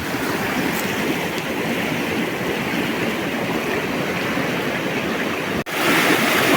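Steady broadband rush of the Nam Sam river flowing in rural Laos, constant and fairly loud with no voices, briefly interrupted near the end before resuming.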